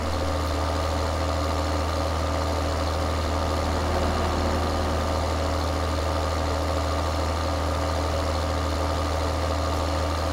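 Vehicle engine idling in the video game Farming Simulator 2013, a steady low mechanical drone that runs unchanged throughout, alone and at moderate level.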